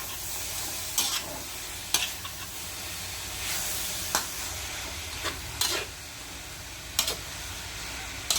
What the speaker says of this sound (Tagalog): At halo-haloin ulit natin.